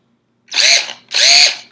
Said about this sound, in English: I have a job mate drill, and mine is cordless